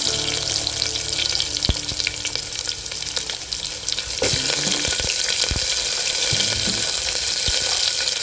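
Onion hits hot oil with popped mustard seeds for moong dal sambar, a loud continuous sizzle with a few sharp clinks, growing harsher and busier halfway through.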